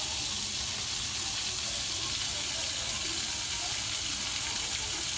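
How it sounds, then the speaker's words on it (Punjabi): Water forcing its way out of a tyre, a steady, dense hissing gush that holds constant and close throughout with no voices over it. "ਦੂਜੇ ਟਾਇਰ 'ਤੇ ਪਾਣੀ ਨਿਕਲਣ ਲੱਗ ਗਿਆ"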